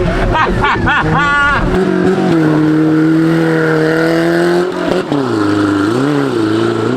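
A BMW E46 fitted with tractor tyres drives through mud, its engine revving loud and close with a sustained rising and falling tone while people talk over it.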